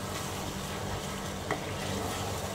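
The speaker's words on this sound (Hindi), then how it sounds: "अब मीडियम फ्लेम पे इसको भून लेंगे।" Tomato masala cooks in a pan over a medium flame, sending up a dense, steady sizzle with a light stir or scrape near the middle, heard close and with no talking.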